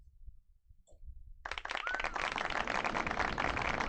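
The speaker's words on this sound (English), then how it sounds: "Let's get a round of applause for Salty Sam expanding his horizons" A round of applause during a live sports card group break starts abruptly after near silence, then continues as a steady patter of fairly close claps, with a brief whistle-like tone near the start.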